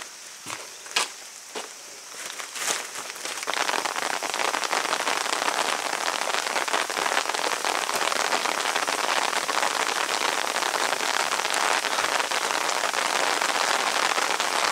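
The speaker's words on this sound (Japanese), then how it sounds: "雨が強くなってきましたね" Heavy rain pours steadily on a rural path beside farmland near a burial mound, building from scattered drops and a few footsteps into a dense, loud, continuous hiss that persists to the end.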